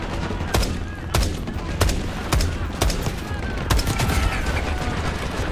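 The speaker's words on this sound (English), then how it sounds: "That's a shotgun." Shotgun blasts in the video game Black Ops 6 boom out in a string of about eight loud, evenly spaced reports over a continuous roar of battle noise.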